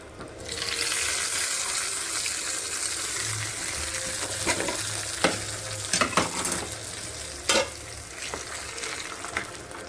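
Tempering for rasam sizzles and crackles steadily in hot oil, with a few sharp pops and clinks of stirring near the end; no one speaks.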